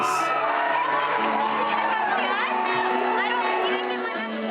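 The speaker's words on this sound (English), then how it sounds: "Like a bunch of screaming like 9-year-old girls." A dense concert crowd screams and cheers loudly and continuously, high-pitched shrieks blending into a sustained roar.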